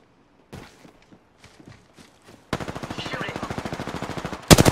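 In a video game, faint scattered footstep-like taps give way to a sustained burst of rapid automatic gunfire, loud and evenly paced, ending in a heavier blast.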